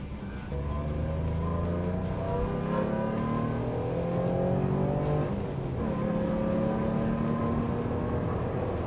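Alfa Romeo GTV sports car engine accelerating steadily from inside, its rising harmonic drone continuous and loud, with a brief dip around a gear change before climbing again.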